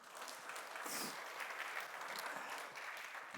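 A church congregation at Sunday worship applauds to welcome new members, a soft, even patter of clapping from a room of people, somewhat distant and fairly quiet throughout.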